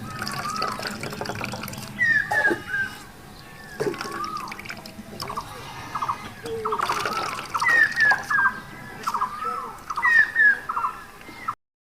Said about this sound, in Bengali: নারকেলটাকে আমি এরকম ভাবে চিপতে থাকবো।